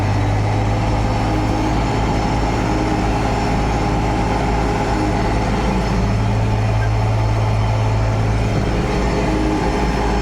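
A Zetor 12145 tractor pulls hard in half gear while ploughing deep for soybeans, its diesel engine a loud, steady, unbroken drone that stays close throughout.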